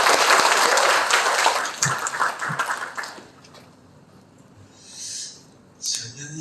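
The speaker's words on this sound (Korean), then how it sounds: "큰 박수로 모시겠습니다" Audience applause welcoming a National Assembly member to the stage at a Democratic Party labor committee launch and lecture in Cheongju, a loud dense burst of clapping for about three seconds that fades out, followed by quieter room noise.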